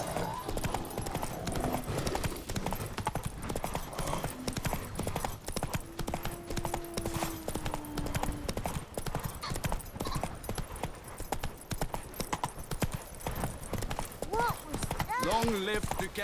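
Horse hooves galloping in The Witcher 3 video game, a steady rapid clip-clop rhythm that runs throughout, with a brief whinny and voices talking over it.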